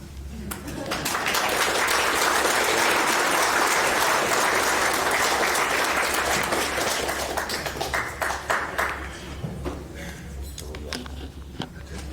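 A big round of audience applause at a boxing hall of fame ceremony swells into loud, dense clapping for about nine seconds, then breaks into scattered individual claps as it fades.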